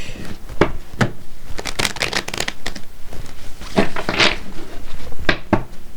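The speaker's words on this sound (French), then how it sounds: "là il y a vraiment trop de cartes qui sont tombées" Tarot cards tumbling and sliding onto a table, a dense run of papery slaps, flutters and shuffles, close and fairly loud throughout with no talking.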